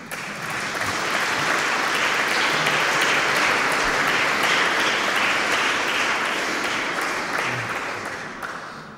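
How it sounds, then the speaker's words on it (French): A seated audience at a French conference on bioethics applauds, a sustained, even roar of many hands clapping that builds over the first second, holds steady, and tapers off at the end. "Si vous voulez applaudir"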